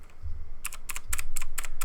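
Loud clacky keystrokes from a mechanical keyboard with blue switches, an irregular run of about eight crisp clicks close by over a low hum, no talk.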